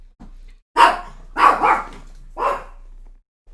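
A dog barks indoors, with three or four loud, close barks spaced irregularly over a faint hum and no talking.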